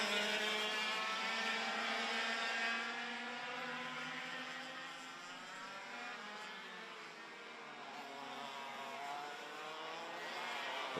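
100cc racing karts in a Pre '95 Euro Grand Prix heat, several high-revving two-stroke engines buzzing together as a steady, fairly distant pack, rising and falling as they circulate.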